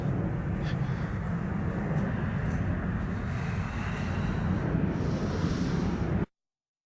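An airplane flies overhead outdoors among trees, a steady broad roar holding at even loudness for about six seconds before cutting off, with faint breathing near the microphone and no birdsong.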